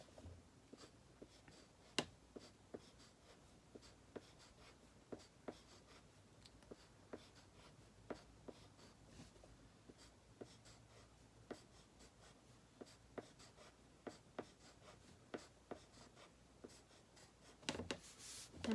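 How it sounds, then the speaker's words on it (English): Quiet scratchy strokes of coloring on paper, with soft irregular taps and scribbles continuing steadily, close up. "we're going to color each of these buildings in with our crayons or colored pencils"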